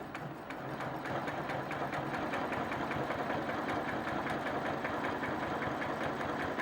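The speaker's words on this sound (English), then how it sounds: "And now I'm ready to begin my stitching." A sewing machine runs steadily and alone at an even, moderate pace while stitching a quilt with a ruler, its rapid needle rhythm forming a constant mechanical hum.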